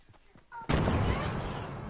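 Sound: pistol gunshots in a video game

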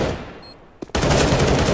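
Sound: gunshots in the video game CS:GO

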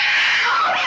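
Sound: woman screaming in a film

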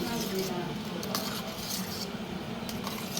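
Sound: stirring jaggery and lentils in a cooking pot

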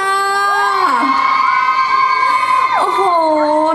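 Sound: crowd screaming and cheering

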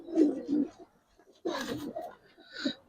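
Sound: Giribaz silver pigeons cooing

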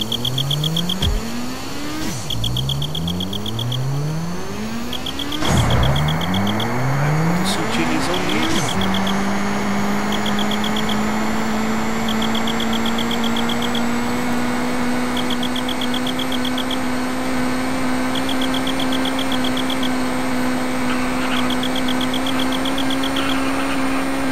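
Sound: car engine with nitro boost in GTA San Andreas video game

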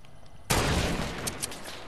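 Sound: gunfire in the video game Fortnite

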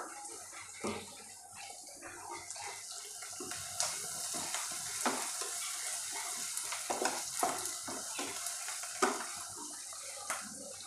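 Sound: asafoetida added to hot oil, sizzling

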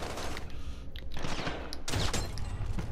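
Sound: Ram 7 gunfire in video game Warzone

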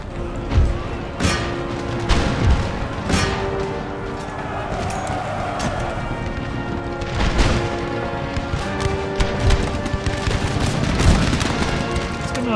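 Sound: musket volley fire in the video game Empire Total War

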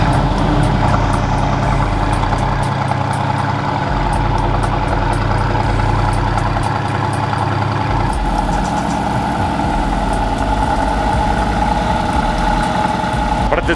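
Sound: 4x4 truck engine starting and idling

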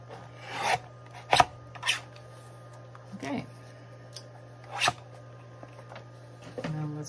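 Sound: cutting junk mail paper

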